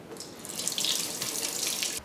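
Water runs steadily from a tap in a smart home in Japan, a close, even rush of flow that starts abruptly and then cuts off near the end.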